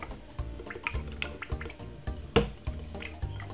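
Jamaican peanut punch drink poured out of a tin, a close run of liquid splashing and dripping with soft irregular glugs and a brief louder splash near the end.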